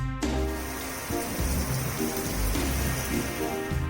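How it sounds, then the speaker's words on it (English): Hard, heavy rain pours steadily, a dense continuous hiss with scattered drop impacts, with music or tonal sounds underneath throughout. "It starts to rain very hard."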